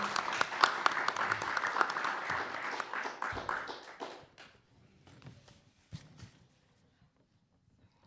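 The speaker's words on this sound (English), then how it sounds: "If we could give her a round of applause, have her come and join us" Audience applause at a community event honoring a Watsonville peace and unity march participant, a dense burst of clapping for the first four seconds that thins into a few scattered claps and fades to near silence.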